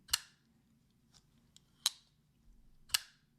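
Three sharp, quiet clacks spaced about a second apart, like a small blade snapping shut, in an otherwise still room: a Renegade Provisions God of Mischief pocketknife closing.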